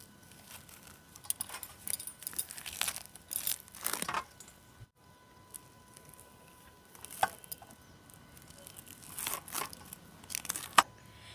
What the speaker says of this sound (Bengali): এবার আমি তালের এই ওপরের খোসাটা বা ছালটাকে তুলে নেব এইভাবে তুলে নেবো একদম ছালটাকে